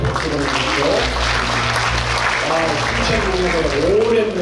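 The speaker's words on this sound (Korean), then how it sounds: "박수 보내주시죠" Audience applause at a book launch event in Suncheon, a continuous dense patter of many hands clapping, fairly loud, while someone speaks over it through a microphone.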